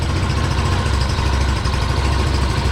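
A small Chinese scooter engine idles steadily up close after repair, a constant low, even putter with a faint rattling vibration and no voices.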